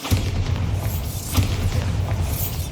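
The Bombarda blasting spell explodes in the video game Hogwarts Legacy, a loud deep boom with a rumbling tail and a second blast swelling about a second later, no speech over it.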